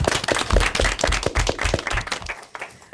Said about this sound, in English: I'd like to hear a big round of applause for yourselves.